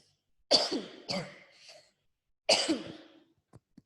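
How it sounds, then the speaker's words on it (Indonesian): Three harsh coughs, two close together and a third after a short pause, loud and near in an otherwise quiet room. "Maaf, saya batuk."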